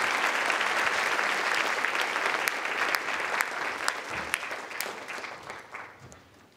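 Audience applause greets the guests at the Tokyo International Film Festival's 30th lineup press conference. The dense clapping is steady at first, then thins into scattered claps and fades out.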